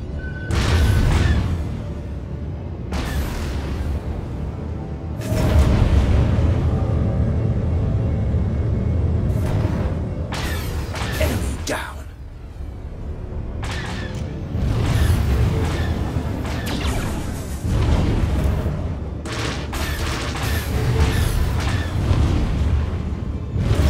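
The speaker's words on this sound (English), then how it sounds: "Brace for missile impact." Missiles strike a starfighter in Star Wars: The Old Republic space combat, producing repeated heavy booms and rumbling blasts with whooshes between them, loud and sustained over a steady engine drone.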